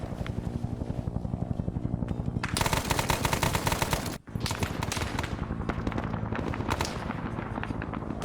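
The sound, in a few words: gunfire in the video game Arma 3 Zeus op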